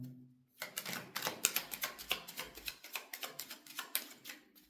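A tarot deck is cut and shuffled close by, a rapid series of crisp card flicks and riffling slaps following a brief low hum, steady and fairly loud with no talk.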